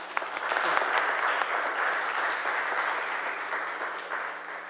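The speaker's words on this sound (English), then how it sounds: "let's welcome them with a round of applause." A room full of people applauding, a dense steady wash of clapping that holds for several seconds before tapering slightly.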